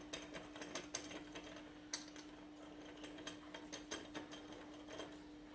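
Ratchet clicking in quick bursts while tightening a part on a Williams Firepower pinball machine, close and moderately loud over a steady electrical hum, with irregular pauses between runs of clicks.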